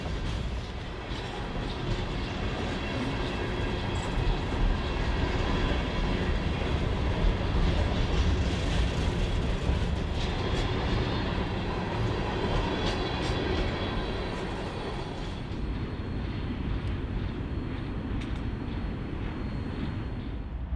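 A CN all-rail iron ore freight train, U-745, rolls steadily past at close range, its continuous heavy rumble and rail clatter holding loud for about fifteen seconds before easing slightly as the cars keep moving.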